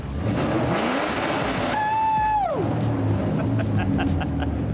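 A modified Ford Mustang with a wide body kit revs hard: a rising engine whine sweeps up, holds briefly and drops off sharply, followed by a loud, steady idle rumble, close by.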